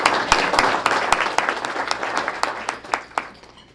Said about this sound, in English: So let's give everyone a great round of applause.